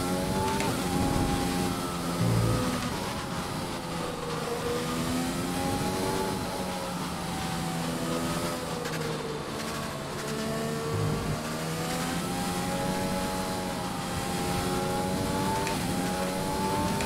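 A race car engine in the F1 2020 video game at the Japanese Grand Prix, a steady high-pitched whine that rises and falls with gear changes and throttle, moderately loud and continuous, with no speech.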